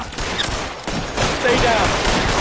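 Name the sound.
gunshots at gasoline barrels in video game L.A. Noire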